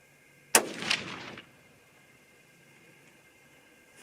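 A single .243 Win rifle shot fired with a 49-grain Ramshot Grand powder load, a sharp loud crack with a short echoing tail that fades within a second into quiet outdoor background, with no talk.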